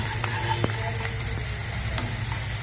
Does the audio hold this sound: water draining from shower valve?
no